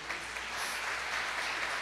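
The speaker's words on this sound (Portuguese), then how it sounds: "Vamos aplaudir ao Senhor por isso?" A church congregation applauds, a broad wash of many hands clapping at once that stays steady and fairly soft, heard from a distance with no voices over it.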